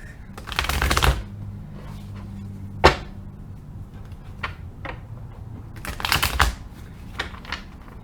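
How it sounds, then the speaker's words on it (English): A deck of tarot cards shuffled up close in two brisk riffling bursts, separated by a single sharp tap and softer card handling in between. "Let me clear out my deck."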